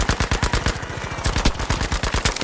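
Automatic gunfire in a Battlefield video game, a loud, close, rapid stream of shots in quick bursts with brief pauses, no talking over it.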